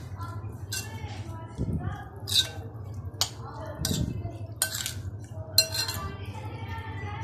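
Spoon clinking and scraping against a bowl while snack ingredients with fresh coriander are stirred together, light repeated taps and scrapes at close range over a low steady hum, with someone speaking at moments.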